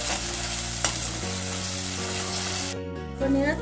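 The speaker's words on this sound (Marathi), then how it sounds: "आता आपला टोमॅटो छान परतला आहे, साइडनी तेल फुटायला लागलं आहे" Tomato masala for paneer biryani fries in oil with a steady, close sizzle, the oil spitting at the edges of the pan, with a low hum beneath and a brief stir near the end.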